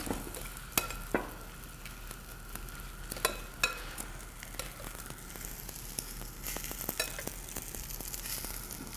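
Coriander-crusted tuna sears in hot oil, a steady soft sizzle broken by scattered pops and a few sharp clicks from stirring, fairly quiet with no talk.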